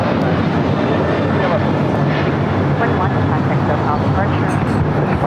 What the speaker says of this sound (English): This is United Airlines 1621 taking off to Orlando on a 737-800